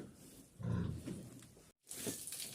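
A pig with a sore hind leg grunts in low, rough bursts close by, with snuffling and shuffling around it and a brief cut of silence partway through.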